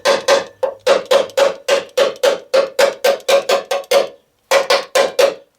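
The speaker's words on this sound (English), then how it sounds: "I'll do a tap test." A hammer taps a welded steel patch on a rusty GMC Envoy frame, about sixteen sharp ringing metallic strikes in a quick even rhythm, close and loud, with one short pause before the last few.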